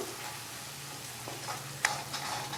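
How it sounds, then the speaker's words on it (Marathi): Onion masala sautéing and being stirred in a pan, a quiet steady sizzle with a low hum underneath and one sharp clink of the spoon against the pan midway. "आता याच्यामध्ये आपण कांद्याचा मसाला घालून घेऊया."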